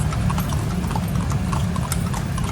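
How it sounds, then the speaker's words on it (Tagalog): Horse hooves clip-clop steadily on pavement in Rizal Park, a close, continuous rhythmic clopping with faint background noise. "Ito, nakatakip yung eyes ng horse."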